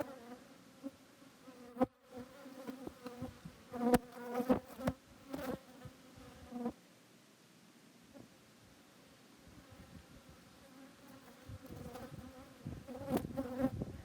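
Honey bees buzz steadily around opened frames from a working hive, including an undrawn frame still being built, with a dense close drone, occasional louder passes near the microphone and brief handling noises.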